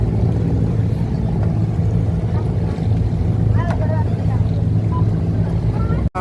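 Boat coming in to the landing, a steady low engine drone and hull rumble close by, with a voice briefly speaking over it.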